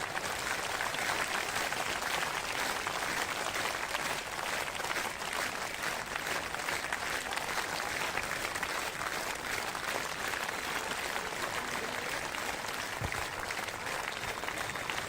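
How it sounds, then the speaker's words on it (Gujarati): Sustained audience clapping at a devotional event, a dense, even wash of hands from a large crowd holding steady and loud from start to finish. "એ તાળી તો પાડો."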